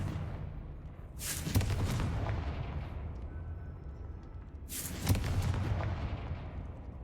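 Two Confringo blast spells go off in Hogwarts Legacy, each a sudden loud explosive boom with a long rumbling tail, spaced a few seconds apart over a low game ambience.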